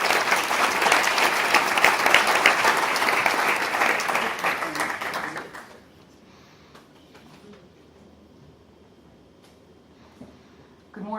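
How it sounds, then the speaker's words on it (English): Audience applause welcoming a speaker at a fitness professionals' conference, loud sustained clapping for about six seconds that fades out abruptly, followed by a quiet room with a few faint noises. "I would like to have you guys give her a round of applause"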